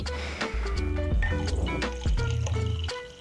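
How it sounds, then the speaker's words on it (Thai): Soda pours into a red soda drink, with fizzy liquid splashes, glugs and dripping in uneven bursts, close and fairly loud. "ขั้นตอนที่สองก็ใส่โซดาไปเลยนะครับ ผมใส่โซดาไป"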